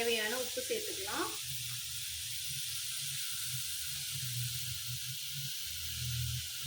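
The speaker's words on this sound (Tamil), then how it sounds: "குடமிளகாய், முட்டைக்கோஸ் போட்டுட்டு நல்லா ஒரு தடவை வதக்கிக்கோங்க." Capsicum and cabbage sautéing in a hot pan give a soft, continuous sizzle and hiss with a low steady hum beneath, after a moment of talking at the start.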